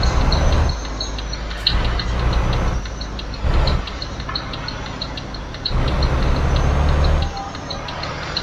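A train passing in Euro Truck Simulator 2, a steady rumbling rush with rhythmic clatter, heard from a truck cab over its engine drone, fairly loud and continuous.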